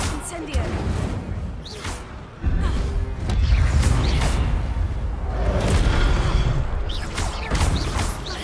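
Incendio fire spells cast in Hogwarts Legacy make repeated whooshing, crackling bursts, several loud flares arriving in irregular succession over a dense, continuous game backdrop.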